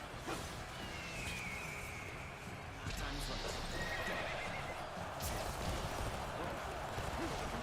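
Horses neigh and whinny amid the clatter of hooves and battlefield noise in Dynasty Warriors: Origins, a continuous busy wash of sound with a couple of high whinnies rising above the din.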